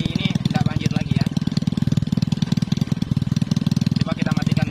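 Honda Supra X 125 motorcycle engine running with a leaky, flooding carburetor, a close rapid steady putter of firing pulses under someone speaking Indonesian.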